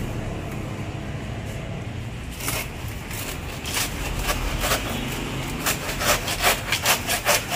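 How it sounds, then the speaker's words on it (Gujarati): A hand saw cutting through a soft, pulpy plant trunk outdoors, steady rasping strokes that quicken into a clear back-and-forth rhythm, close and loud, with no talk. "કેવીન કરવત લઈ આવ્યો છે અને કાપશે."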